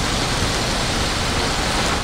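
Steady rain pours down over Lahore after a dust storm, a dense, even hiss of falling water with no voices.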